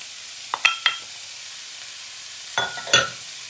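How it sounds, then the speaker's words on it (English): Peppers and carrots land in a pan of frying vegetable rice and get stirred, two pairs of short scraping, clattering strokes separated by a quiet pause, close and sharp over a faint background hiss. "So we're gonna add our peppers in there, carrots,"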